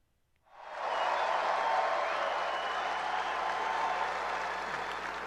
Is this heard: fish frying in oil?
no